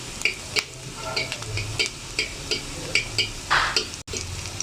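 A dried chili frying in oil in a pan, a close sizzle broken by regular spatula scrapes and taps roughly twice a second, ending in a brief cutoff.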